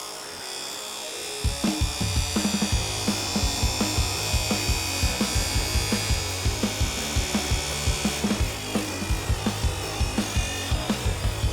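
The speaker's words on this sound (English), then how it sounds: "I'm just going to grind away a bit of that step. This is where cut-off wheels work quite nicely" A cut-off wheel on a Clarkson tool grinder grinds a step off a clamp, a close, steady buzzing whine broken by rapid rhythmic pulses that begin after a short quiet moment and carry on to the end.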